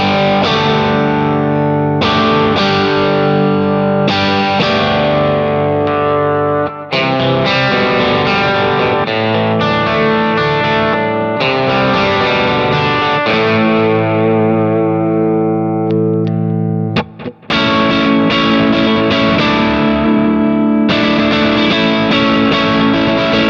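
Loud, crunchy distorted electric guitar, a Strat through a Kemper Marshall-style amp profile, with thick midrange, playing sustained chords and riffs with brief pauses, full and upfront.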